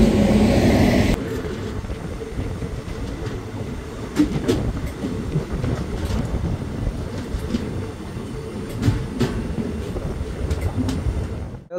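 The Tebhaga Express rolls along toward Malda Town station, heard from inside as a steady low rumble with scattered wheel clicks and rattles and no clear speech.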